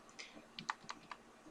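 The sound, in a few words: typing on a computer keyboard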